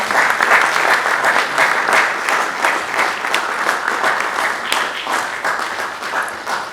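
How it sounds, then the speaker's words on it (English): Attendees at a university energy symposium and exhibition put their hands together in sustained, even applause from a sizable crowd, loud and close, lasting several seconds without letting up. "please put your hands together"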